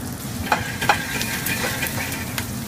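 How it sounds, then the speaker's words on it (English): Fresh garlic and shallots sizzling in butter in a pan, a steady close crackling fry with small sharp pops and stirring clicks, with no talking. "now that our butter is starting to sizzle a little bit, we're gonna drop in our fresh garlic and some of the shallots"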